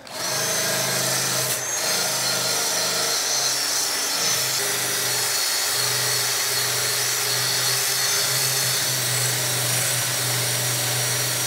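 A power tool scrubbing moss and lichen off a surface whirs steadily and loudly, a constant grinding drone with a low hum beneath, running without a break.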